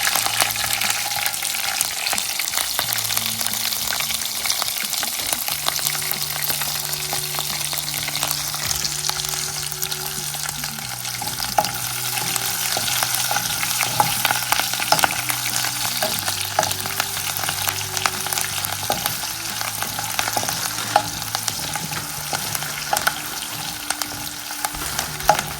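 Chili and curry leaves sizzle and fry steadily in hot oil for a prawn curry, a dense continuous crackle heard up close under a faint background tone.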